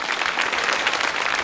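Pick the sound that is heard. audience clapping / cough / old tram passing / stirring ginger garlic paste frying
audience clapping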